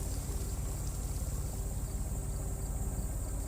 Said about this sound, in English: barulho de motor.